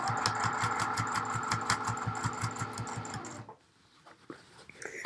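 A sewing machine stitches fabric along the lining seam of a lined tieback scrub cap, whirring steadily with a fast even needle rhythm for about three seconds before stopping, leaving quiet handling noises.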